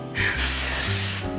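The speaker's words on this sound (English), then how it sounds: "this is a little texturizer from Dominus. It's a dry texture spray." A Dominus dry texture spray is sprayed onto fine hair in a single steady hiss of about one second, close by and fairly loud, with a quiet room before and after.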